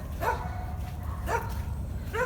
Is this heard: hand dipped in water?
no